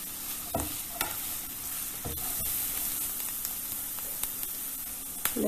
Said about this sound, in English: And fry it up.